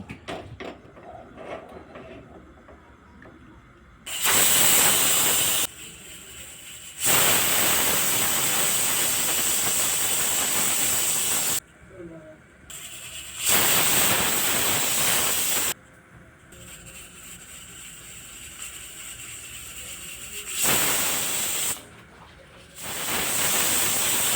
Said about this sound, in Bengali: পাঁচটা সিটি লাগিয়ে নিয়েছি এবার আমি কুকারটাকে ধরে নামিয়ে রাখবো